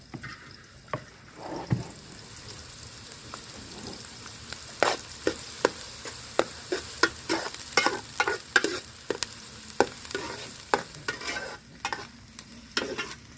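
Crushed ginger and garlic for potato kurma fry in a pan, a soft sizzle broken by many sharp scraping and stirring knocks that grow busier and more rhythmic toward the end.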